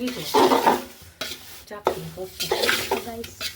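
Flour and sugar are stirred in a kadai for adadiya, with repeated close scraping strokes and dull knocks of the spoon against the pan, separated by brief gaps.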